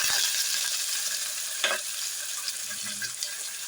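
Onions with dried red chillies and green chillies sautéing in a pan give a continuous close sizzle, with a brief scrape of stirring midway and a few light clinks, and no talking.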